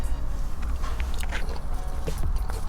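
A crunchy bite of food with strawberries, close-up chewing and crisp crunching against a steady background rumble, with scattered crackly bursts throughout.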